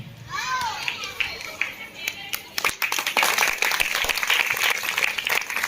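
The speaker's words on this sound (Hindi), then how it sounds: "ताली के गड़गड़ाहट लगातार होते रहना चाहिए।" An audience at a village ceremony honouring guests breaks into applause, building from scattered claps into sustained, dense clapping with children's voices and chatter mixed in.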